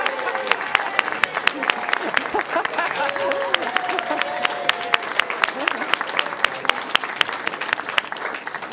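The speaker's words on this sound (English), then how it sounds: "I'm so glad you all stood up and recognized her, and there was such a robust applause there" A room of people applauds the city clerk at an Encinitas city council meeting; dense, robust clapping runs throughout with scattered sharp claps and faint crowd voices beneath.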